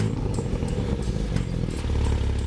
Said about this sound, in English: the kind of smoothness and engine sound the Turbo 4 doesn't get